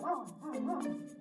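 A dog barks a few times nearby, short yips running together over about a second with no talking.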